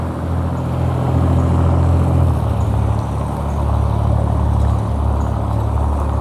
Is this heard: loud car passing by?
yes